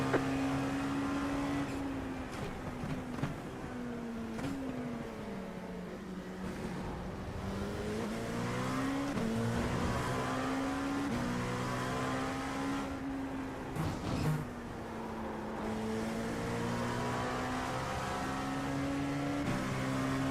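LMP2 prototype race cars accelerating at the green-flag start of an IMSA endurance race at Virginia International Raceway, a loud sustained engine drone rising and falling through gear changes, with other cars roaring close by.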